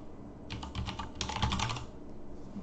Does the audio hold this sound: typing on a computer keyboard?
yes